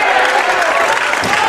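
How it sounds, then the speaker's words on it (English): A basketball crowd in a high school gym, home and Brookfield East fans, applauds and cheers as a dense, loud wash of clapping and voices, steady throughout the short moment. "The crowd getting into this one, especially from the Brookfield East side where our broadcast booth is located."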